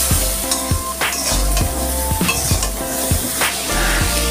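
Pieces of pointed gourd (potol), salted and dusted with turmeric, fry in hot oil in a pan, a steady sizzle broken by regular scraping strokes and clanks of a spatula stirring against the metal, close and fairly loud.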